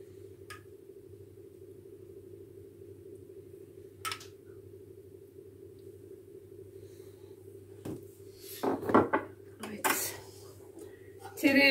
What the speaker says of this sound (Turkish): Sarımsakla hazırlamış olduğum yoğurdumu şöyle üzerine gezdiriyorum.